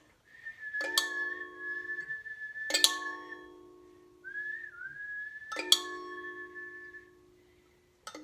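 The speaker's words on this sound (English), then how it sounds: "Suddenly I heard a piercing whistle" A piercing whistle from a puppet show's dream-forest scene: loud, sustained high notes held several seconds each, repeated three times and broken by sharp metallic clinks.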